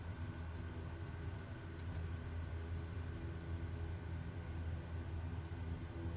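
A Kodiak 100 aircraft taxiing in Microsoft Flight Simulator 2024, its engine producing a steady low drone with a constant hum that stays level and unbroken.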